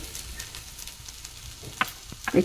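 Dried grated potato khichdi stirred and sautéed over a low flame, a soft sizzle with a few light spoon scrapes near the end, close and fairly quiet.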